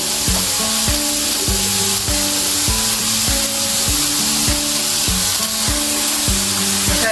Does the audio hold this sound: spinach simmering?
yes